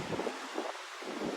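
Strong winds in Alabama gust outside in a short, faint burst: a muffled, wavering rush of air with soft low buffeting.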